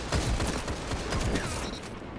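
Rapid bursts of shotgun fire from Gunnora's Axe in a first-person shooter game, dense and continuous, with overlapping booming blasts and game effects throughout.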